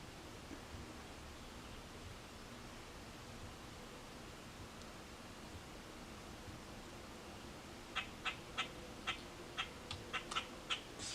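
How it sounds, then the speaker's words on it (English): A bird calls outside a window, a quick series of faint, sharp chirps arriving in a cluster near the end after a long stretch of quiet indoor room hiss. "Some weird bird outside my window."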